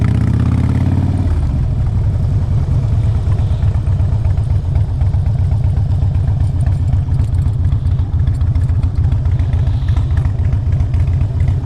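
A 2004 Harley Davidson Road King Custom motorcycle engine idles, a loud, close, steady low-pitched throb with an even pulsing rhythm that carries on unchanged for the whole stretch, with no voices.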